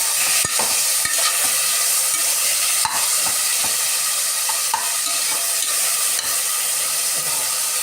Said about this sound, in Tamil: இப்போ அடுத்தது வெங்காயம் வதங்கிடுச்சு. நம்ம நறுக்கி வச்சா தக்காளியை வந்து போடுறோம்.